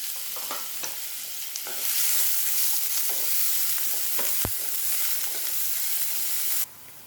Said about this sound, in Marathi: हा सर्व कांदा आपल्याला यामध्ये घालून घ्यायचा आहे व गुलाबी परतून घ्यायचा आहे